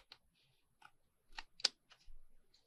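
Scissors trim the extra paper from a Victorian album journal, a few quiet close snips and rustles spaced unevenly across a near-silent background.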